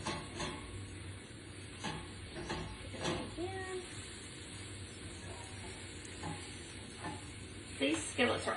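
An egg cooks in a non-stick skillet with a soft, low sizzle and occasional scraping of a utensil, and a person talks over it.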